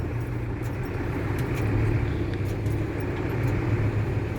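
A car engine is given a little throttle while driving slowly, a steady low rumble with faint road noise that swells slightly partway through, no voices.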